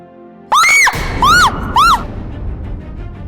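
A woman screams in a Hindi TV drama: three loud, high-pitched shrieks across the first two seconds, the first longest, followed by a lingering noisy room tone.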